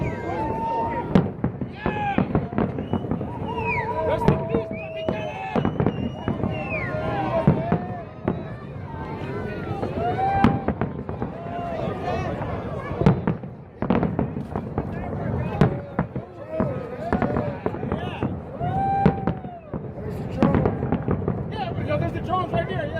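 Fireworks crackle and boom continuously at the Tropicana casino implosion in Las Vegas, dense loud bursts and pops throughout, with a crowd cheering and voices mixed in.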